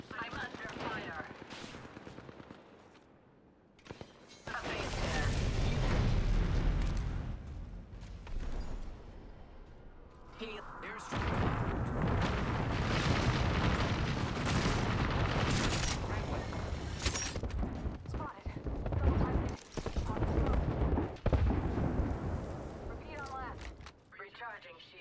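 Heavy gunfire from the battle royale video game Apex Legends rattles in sustained bursts with booming shots across most of the stretch. Players talk over it.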